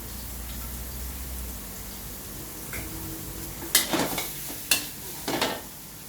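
Bean sprouts and egg being stir-fried in a pan, with a soft steady background and a few sharp scraping and tossing clatters of the spatula near the end, quiet and with no talking.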